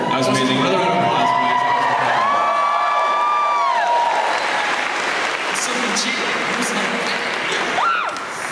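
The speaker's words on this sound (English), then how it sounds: "Another round of applause." Applause from a crowd at a convention's Sunday night live show, with scattered cheers and whoops. It fills the room loudly and steadily while a voice speaks over it at the start.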